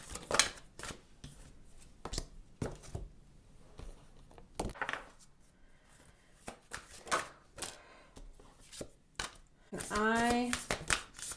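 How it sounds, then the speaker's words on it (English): Tarot cards are shuffled in quick, crisp riffles and taps close by, with a short speaking voice near the end. "So you guys like to see me shuffle on camera"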